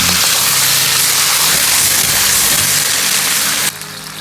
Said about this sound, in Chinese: 接着下入姜片去腥，晃动锅底，让其受热均匀，一面保持中火煎至2分钟